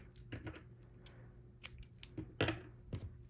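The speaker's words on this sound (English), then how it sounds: "And to fasten off, just chain 1 and cut a long tail for sewing." Scissors snip crochet yarn to leave a long tail: a few short, close, crisp cuts in quick succession over a faint steady hum, with no talking.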